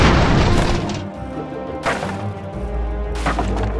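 Cannons booming from airships in the game Airships: Conquer the Skies, heavy low thuds with crashing impacts, several blasts spread across the stretch, loud and close with no talk.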